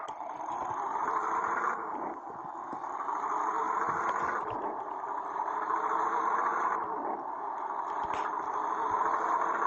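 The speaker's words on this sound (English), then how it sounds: "The engine sound on this sounds very sort of grainy" Steady, grainy diesel drone of a Wright NB4L New Bus for London on a city route, running continuously with no gaps and moderately loud from inside the cabin.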